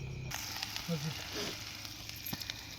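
Masala and chopped vegetables dropped into hot oil in a home kitchen, giving a steady soft sizzle with faint stirring clicks, fairly quiet throughout.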